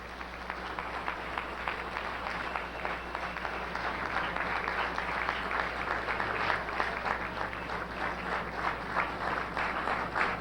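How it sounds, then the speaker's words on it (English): A warm, sustained round of audience applause for a guest speaker at a lecture, dense clapping holding at an even level throughout with a faint crowd murmur underneath. "let us give a warm round of applause for our brother, Brother Kwame Ture."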